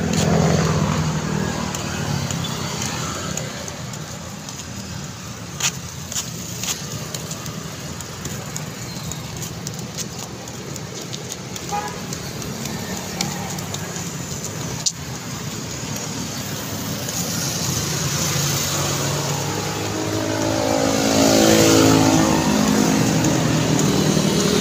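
A vehicle rolls along a highway in early morning traffic on the way to school over a mountain, with a steady broadband road and engine roar throughout and occasional sharper ticks and rattles.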